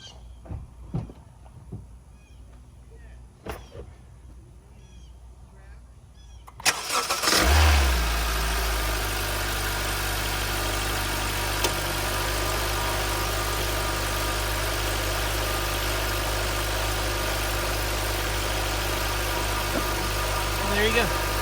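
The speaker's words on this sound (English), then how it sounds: "So I'll give you an engine crank." A 2018 Honda HR-V after battery servicing: quiet shuffling and light clicks, then the engine cranks briefly, catches with a loud surge and settles into a steady, even idle for the remainder.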